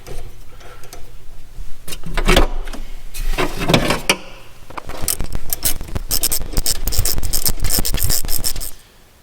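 A ratchet tightening the top bolt of a shock absorber on a 2006–2011 Honda Civic, with fast clicking ratchet strokes in close-up bursts, a brief pause, then a longer run of clicks.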